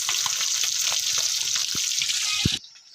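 Fish frying in a pan at home for breakfast, a steady loud sizzle with crackling pops throughout before it cuts off abruptly near the end.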